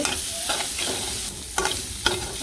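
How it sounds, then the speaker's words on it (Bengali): Spice masala for a soybean and potato curry frying in a pan, a constant close sizzle broken by a few quick scraping stirs. "মশলাটা ভালো করে কষিয়ে নেই"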